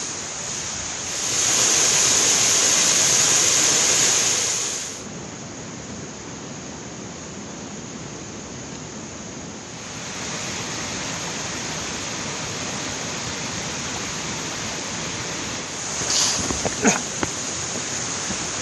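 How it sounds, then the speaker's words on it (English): Steady broadband rush of waterfalls along a small river stream on a hillside climb, constant and fairly close, with a louder hissing surge early on and a few brief knocks near the end. "This first bit is a climb up the side of this sort of river stream thing. There's a few waterfalls and that."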